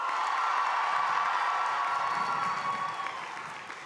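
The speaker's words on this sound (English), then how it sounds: "Let's give known MPLS one more round of applause." A large crowd at a University of Minnesota undergraduate commencement ceremony applauds and cheers loudly, a broad wash of clapping and whoops that holds steady, then gradually tapers off.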